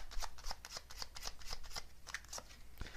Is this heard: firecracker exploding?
no